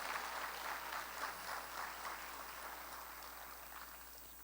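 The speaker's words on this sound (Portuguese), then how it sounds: "aplauda o nome do Senhor por essa verdade absoluta." Fairly faint applause from a congregation during a Portuguese-language church sermon, steady clapping that gradually thins out, ending with a sudden louder knock.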